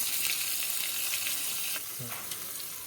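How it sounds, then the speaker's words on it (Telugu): Hot oil sizzles and crackles steadily as asafoetida is added for tempering, a busy frying hiss with a few soft pops, no voices. "ఇంగువ ఒక 1/2 టీ స్పూన్ ఇంగువ వేస్తాను అన్నమాట."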